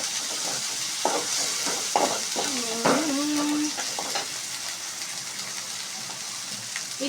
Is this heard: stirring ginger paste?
yes